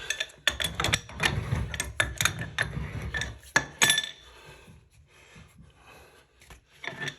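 A shower drain cover being unscrewed during a drain repair gives close, irregular metallic clinks, scrapes and rubbing taps, busiest at first and thinning out toward the end.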